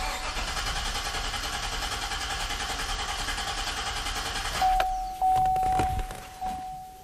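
A car engine cranks over during a starter and battery test, with steady rhythmic chugging for about four and a half seconds before it catches, then settles with a couple of short revs and a thin steady tone behind it.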